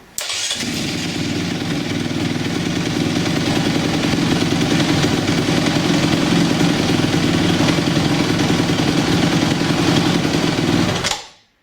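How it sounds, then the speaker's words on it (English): A 2012 Honda CRF250X dirt bike idles steadily and loudly up close, a continuous even engine rumble that runs for about ten seconds before cutting off at the end. "As you can see, that's charging, even at idle, 25 volts."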